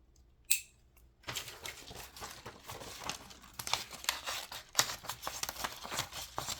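Dry metallic snips and crinkly handling noises from the extra-large scissors of a Rocktol multitool, close up and continuous, with small clicks and rustles and no talking.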